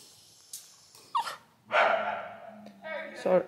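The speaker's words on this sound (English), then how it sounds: "Sorry about the squeaking dog." Dog squeaking and whimpering in short high yips and whines near a dressage horse arena, mixed with breathing and sniffs, while a person talks at moderate distance.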